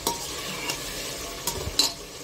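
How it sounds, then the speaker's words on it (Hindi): Masala of turmeric and tomato frying in a pan, a close steady sizzle with a few brief scrapes and clinks of a spoon stirring it. "अब इसको मैं अच्छे से भून लूँगी"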